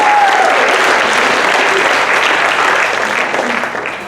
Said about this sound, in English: If we can give our panelists a round of applause.